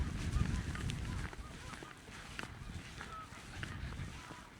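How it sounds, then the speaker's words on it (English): Geese honk in the distance by the Eel River during a flood, sounding as scattered faint calls over a rushing, noisy outdoor background. "I hear geese."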